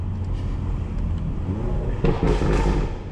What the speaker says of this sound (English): Oh, those downshifts though.